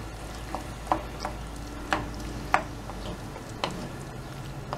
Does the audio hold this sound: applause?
no